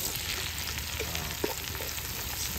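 Breakfast frying in a Dutch oven at a bushcraft camp, a steady close sizzle with a few faint clinks and stirring sounds, no voices.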